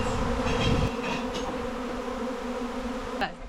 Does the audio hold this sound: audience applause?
no